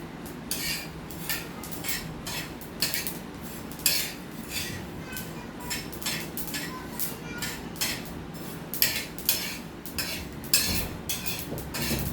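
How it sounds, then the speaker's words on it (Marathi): Niger seeds roasting in a pan, with repeated metallic clinks and scrapes from stirring, irregular but continuous and close by. "आता हे कारळे मी भाजत आहे. हे भाजायला लागले आहेत."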